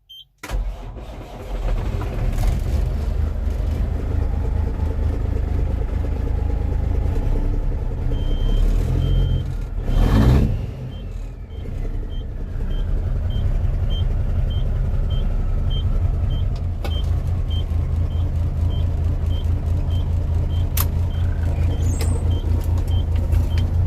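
A truck engine cranks and catches, then runs on in a loud steady rumble close by, with a brief surge of revving around the middle and faint intermittent beeping later.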